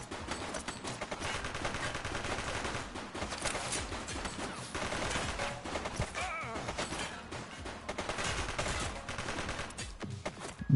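Gunfire from the police video game The Precinct rattles in dense, repeated bursts, loud and continuous over a busy game soundscape, with no voices.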